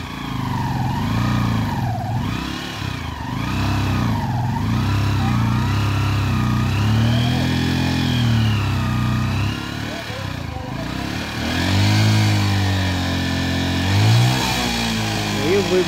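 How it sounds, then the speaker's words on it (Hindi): A motorcycle towing a tractor revs with a loud, close engine note that rises and falls repeatedly as the throttle is worked, under a voice talking over it. "तो बाइक ने ट्रैक्टर खींच दिया है।"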